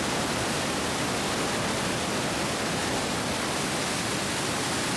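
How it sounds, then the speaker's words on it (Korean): Iguazu Falls pours a huge volume of falling water, a steady, dense, full-bodied roar of the waterfall that holds unchanged throughout with no voices or other sounds. "끊임없이 쏟아져 내리는 엄청난 양의 물이 만들어내는 천국으로 이르는 길."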